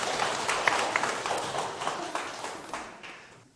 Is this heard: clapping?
yes